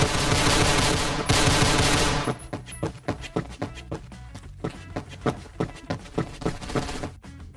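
Gunfire in the Roblox shooter Phantom Forces opens with a dense, sustained burst, then breaks into rapid, evenly spaced individual shots that crack close and loud.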